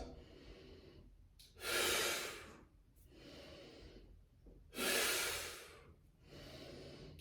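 Slow yoga breathing close to the mic, two long, loud breaths with quieter airy inhales between, no talking.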